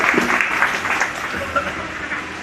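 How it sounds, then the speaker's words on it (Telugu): Audience applause at an Arya Vaishya felicitation ceremony honouring Nandi award winners, a steady wash of many hands clapping throughout with no one speaking. "కాల్వ బ్రదర్స్కి ఒక్కసారి మనమందరం చప్పట్లతో వారికి థ్యాంక్ యూ"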